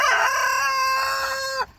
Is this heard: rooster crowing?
yes